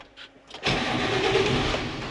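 A 6620 Sport tractor engine cranks briefly after a few faint clicks, then catches and bursts into a loud, rough running roar that holds steady.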